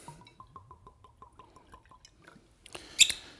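Ardbeg 10-year-old peated Scotch whisky trickles from a bottle in a quick run of small glugs and drips, ending with a brief clink of glass, quiet and close.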